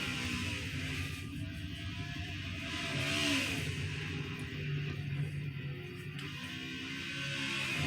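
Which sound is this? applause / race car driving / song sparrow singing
race car driving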